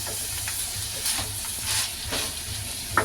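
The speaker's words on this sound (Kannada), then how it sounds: "ಈಗ ಇದನ್ನೆಲ್ಲ ಚೆನ್ನಾಗಿ ಫ್ರೈ ಮಿಕ್ಸ್ ಮಾಡ್ಕೊಳ್ಳೋಣ" Ingredients for a village-style ridge gourd bassaru sizzle and hiss steadily in a hot pan, with soft scraping and stirring strokes over the continuous frying.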